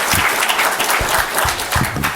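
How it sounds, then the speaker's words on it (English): A crowd at a public talk on property tax applauds for John Yudichak, a short burst of loud, close clapping from many people in a hall. "Yeah, give a round of applause for John Yudichak."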